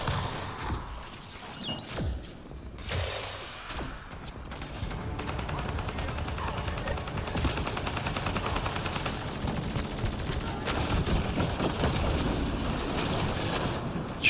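Heavy gunfire in the video game Apex Legends: dense, continuous bursts of automatic shots and booming impacts, loud and sustained with hardly a pause.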